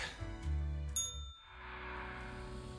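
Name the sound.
phone notification sound in Death and Taxes video game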